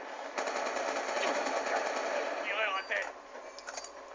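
Gunfire from an N94 rifle in a Call of Duty: Ghosts Demolition multiplayer match, with rapid bursts of shots over continuous game noise and effects for the whole stretch.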